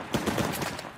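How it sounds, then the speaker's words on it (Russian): Gunfire from a firefight in Uncharted: The Lost Legacy, a quick burst of loud, rapid shots crammed into a single second, close and harsh. "по тебе стреляют"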